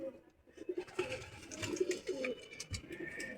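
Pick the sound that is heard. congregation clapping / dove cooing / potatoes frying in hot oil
dove cooing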